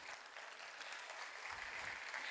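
Parents at a kindergarten school event clap together, a brief, faint and steady patter of applause heard from a distance, with no voices on top of it.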